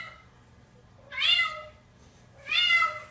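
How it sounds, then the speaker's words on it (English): A cat makes two unusual drawn-out, strained meowing cries, each about half a second long and fairly close, separated by quiet with a faint low background hum. "I have never heard a cat make this noise before"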